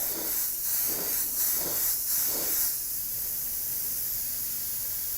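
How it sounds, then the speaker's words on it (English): An airbrush sprays plain air over a coat of Wicked opaque white paint, a steady close hiss that swells in four short pulses before settling into a continuous even stream. "I'm going to spray just some air on there"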